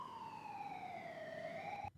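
An emergency vehicle siren, ambulance or fire truck, wails in one slow, steady falling-then-rising sweep. It is faint and distant and heard alone, then cut off abruptly at the end.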